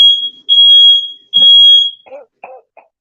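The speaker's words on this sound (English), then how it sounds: "You hear that fire alarm?" A smoke alarm set off by burnt toast shrills in three long, piercing high-pitched beeps, loud and close, followed by a few brief coughing or throat-clearing sounds.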